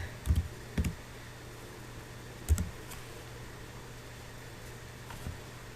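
Keys are pressed on a graphing calculator while equations are entered, a few soft, sparse clicks spaced apart over a quiet steady background hum.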